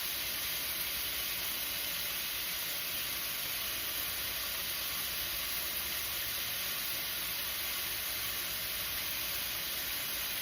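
Chicken sears in a hot skillet with a steady, even hiss and sizzle that holds at low volume with no break.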